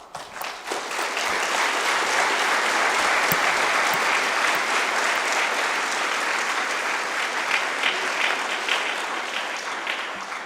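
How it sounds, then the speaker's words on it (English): Sustained applause from a room audience after a talk at a Yom Hashoah program, a dense, steady clapping that swells quickly and holds for about ten seconds. "I don't know if you could hear the applause in the room"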